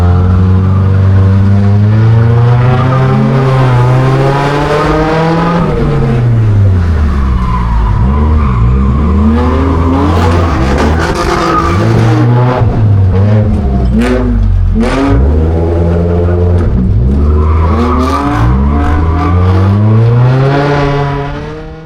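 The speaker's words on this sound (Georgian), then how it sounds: "აქ ერთ-ერთ მომენტში ჯიჯი მეჯახება და მატრიალებს და მასწრებენ სხვა მანქანები" Race cars in a racing video game roar with steady engine whine while tires skid and squeal, with brief knocks of a collision as one car is hit and spun around, loud and continuous throughout.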